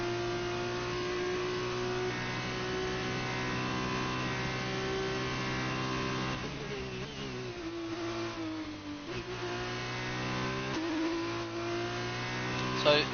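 A race car engine on a lap of the Italian Grand Prix circuit drones steadily in a high-pitched tone, changing pitch with brief lifts and gear shifts as it accelerates, heard from inside at a moderate, even level.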